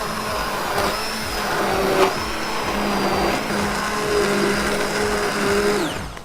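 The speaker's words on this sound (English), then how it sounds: "So these hand blenders are the best thing to use." Hand blender whizzing black bean soup in a pot, a close steady motor whine with churning texture, briefly dipping in pitch, then winding down at the end.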